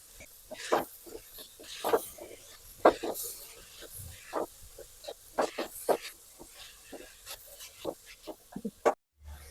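Tomatoes for masala pasta sizzling in a hot pan, irregular bursts of crackling hiss and spitting popping up one after another, fairly close and moderately loud, with no talking.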